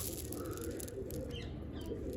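Pigeons, adult birds with their young, out in the sun at a loft, give soft chirps and calls over a steady low rumble of wind or ambient noise, faint and continuous throughout.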